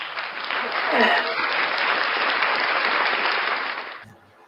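A crowd claps steadily for about four seconds, fairly loud and close, with a voice briefly audible under it before the clapping stops abruptly.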